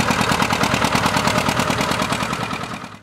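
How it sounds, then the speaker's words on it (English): A large two-cylinder diesel farm tractor engine running with a loud, steady, rapid bop-bop-bop firing rhythm, close up and alone, fading slightly at the end. "With its distinctive bop-bop-bop sound, this machine was once a familiar sound in thousands of Midwestern fields."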